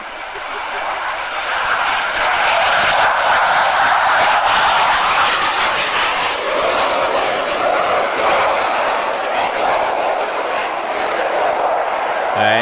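Canberra jet aircraft making a low pass at the Kemble classic airshow, a loud roaring jet rush that swells in the first few seconds and holds strong before easing slightly, heard alone.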